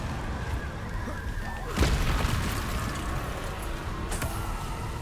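A spell cast in the Hogwarts Legacy video game lands as a sudden booming burst near the middle, then a smaller flare toward the end, set over a steady layer of game ambience and rumble.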